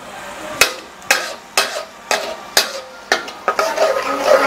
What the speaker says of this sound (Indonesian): Sekarang kita tumis bumbunya.